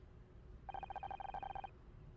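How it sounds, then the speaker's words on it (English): A phone rings in the video game Murder by Numbers, one quiet electronic ring made of rapid trilling pulses that lasts about a second over faint background hum. "I think that's my phone."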